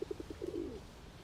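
Pigeons cooing nearby, a quick series of soft rhythmic coos rolling into a longer warbling call, faint and brief.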